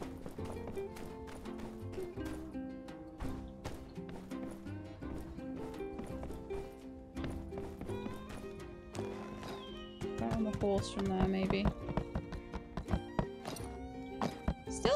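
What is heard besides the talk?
horse galloping and neighing in video game My Time at Sandrock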